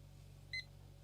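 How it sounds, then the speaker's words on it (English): A coffee brewing timer is started and gives a single short, clear electronic beep, close and distinct above a low steady hum. "So now we're going to start our timer"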